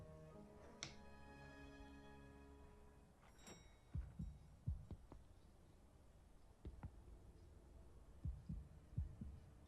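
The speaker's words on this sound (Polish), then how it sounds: "Wiesz, to takie bicie serca." Heartbeat effect from the video game Mafia: The City of Lost Heaven: soft, low, muffled thumps that arrive in loose pairs and clusters through the second half, set against quiet sustained musical tones.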